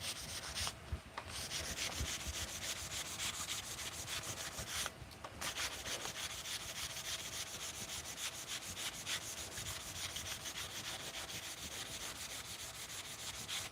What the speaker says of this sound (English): these pieces of sandpaper almost have no grit to them. So it's really just grabbing at the copper like crazy